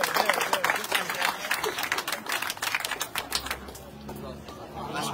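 Crowd applause at a political rally in Ispica, a burst of dense rapid clapping that fades out toward the end, with speech under it.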